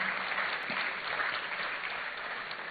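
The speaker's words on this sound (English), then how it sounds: "A better round of applause for him," Sustained audience applause fills a university hall during an entrepreneurship launch event, steady dense clapping throughout with no voices over it.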